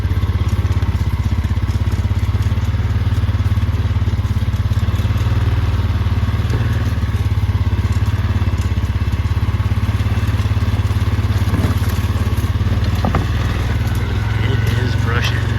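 A four-wheeler ATV engine drones loudly and steadily up close while driving through dense brush, with occasional thumps and crackles of branches over the constant motor.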